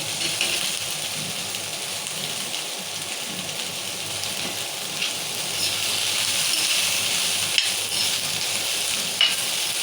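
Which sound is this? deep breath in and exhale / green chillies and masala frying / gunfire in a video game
green chillies and masala frying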